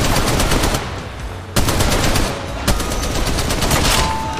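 Rapid automatic gunfire in the mobile battle royale game Apex Legends Mobile, loud and close, with sustained bursts broken by a couple of sharp louder shots over about four seconds.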